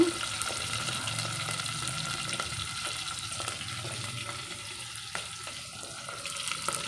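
A pan of tempering spices with one tomato and two small red onions sizzles and fries steadily and close, with faint clinks of stirring, while cooking a sweet potato and dried fish tamarind stew.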